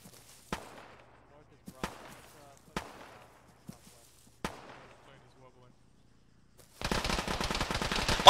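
Gunfire in the Arma military game: several single distant shots with echoing tails, spaced about a second apart, then a dense burst of rapid fire near the end.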